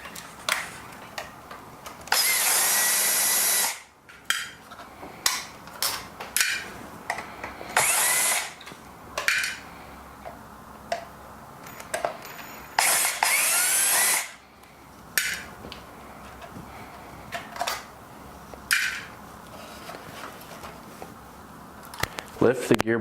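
A power driver removes the three screws holding a gearbox and motor assembly to a chassis, sounding in several short whirring bursts of a few seconds each, broken by pauses filled with handling noises.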